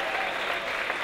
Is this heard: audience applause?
yes